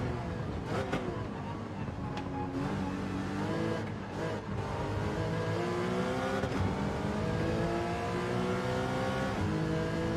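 Race cars in Gran Turismo 7 roar continuously with rising and falling engine revs and gear shifts, several cars close together through the whole stretch, loud and steady with no talking.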